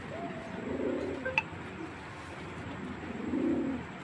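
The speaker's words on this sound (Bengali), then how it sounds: "দর্শক একটা ওল্ড ব্রিডের সাপচিলা কবুতর দেখাইতেছি।" Old-breed pigeons coo nearby in two soft, throaty, rolling phrases separated by a pause, with a brief sharp click between them and a quiet background.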